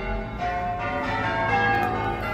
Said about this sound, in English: Listen to the church bells.